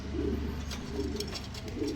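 Domestic pigeons of show breeds such as King and Lahm coo repeatedly in a shop's lofts, a low continuous layered murmur of several birds close by, with no talk.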